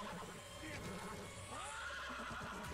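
A horse whinnies with a rising, wavering cry that sounds like a scene from a drama's soundtrack, heard at moderate level over steady background noise, with faint hoof clatter and a hint of voices.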